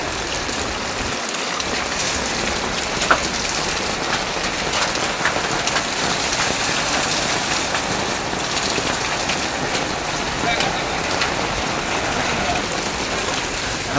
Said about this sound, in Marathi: सध्या अक्कलकोट शहरातील जुना आडत बाजार येथे गारपीट होत आहे आणि गारं पडत आहेत